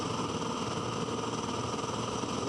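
A touring race car lapping Bathurst, heard from onboard: a loud, constant engine drone held at high revs with a dense buzzing roar and no breaks.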